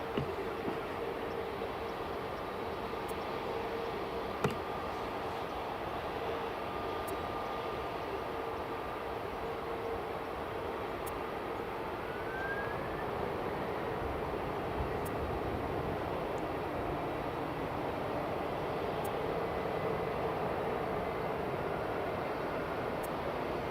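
A Finnair airliner bound for Helsinki takes off from Edinburgh Airport, heard as a steady, broad jet roar at a distance that holds even and unbroken for the whole stretch, with no voices.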